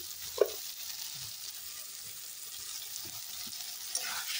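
Paneer curry fries in a pan as turmeric and salt are stirred in: a steady, soft sizzle with a few faint utensil knocks, and no one speaking.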